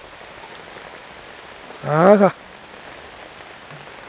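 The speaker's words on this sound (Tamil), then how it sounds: "நல்ல மழை" Steady rain falling outdoors at a budget farm house on ECR, a soft continuous hiss throughout, with a voice briefly exclaiming over it.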